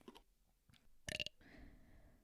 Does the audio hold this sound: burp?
yes